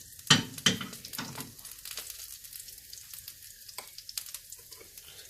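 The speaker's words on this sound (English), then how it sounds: "as you can hear, it starts sizzling" Cumin seeds sizzle and crackle in hot oil in a frying pan, a steady hiss with a couple of sharp clinks near the start.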